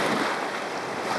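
Sea surf rolling in along the Irish coast at An Staca, a steady broad wash of waves mixed with wind buffeting the microphone, loud and continuous for a brief moment.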